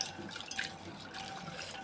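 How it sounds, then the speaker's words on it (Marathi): Roasted dried Bombay duck fish rinsed in water in a kitchen pot, close sloshing and dripping water with small splashes throughout, no voices. "त्यासाठी आपल्याला 2 ते 3 पाण्याने स्वच्छ धुवून घ्यायचे आहेत"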